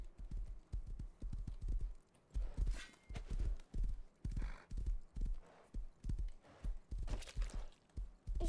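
Rhythmic hoofbeats of a horse in the survival video game Rust, a steady run of clip-clop thuds at a brisk pace, fairly near and clear with no talking.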